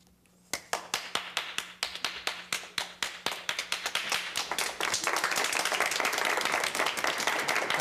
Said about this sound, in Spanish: usted se ganó ese aplauso